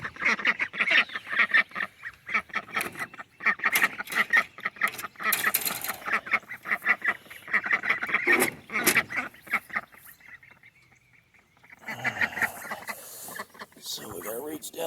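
Ducks quack repeatedly in a close, noisy flock, with bursts of calls through the whole stretch and a short lull near the end.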